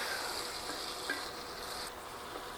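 Canned diced tomatoes, juices and all, stirred into a skillet with a steady soft sizzle and wet scraping turns, moderately close and without voices.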